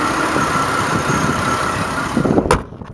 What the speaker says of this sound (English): it is currently running, so you can hear how well it runs